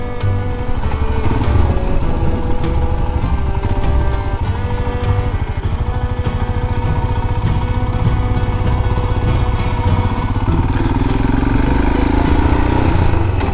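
A motorbike chugs steadily along a country road on the way to an old 13th-century chapel at Chisbury, its engine note loud, continuous and close throughout, with no talk.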